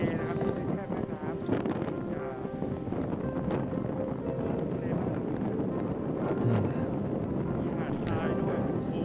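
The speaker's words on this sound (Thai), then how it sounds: "เขาก็มีการบังคลื่นคลื่นแรงครับคลื่นแรงตามลมเลย" Strong wind-driven waves roll onto the sandy shore of a very large lake in wintertime America, making a steady, loud broadband roar with wind buffeting the microphone throughout.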